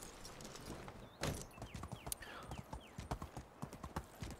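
Horse hooves clip-clopping at a steady ride in the video game Medieval Dynasty, a close, rhythmic run of hoofbeats with a brief whinny, and no talking.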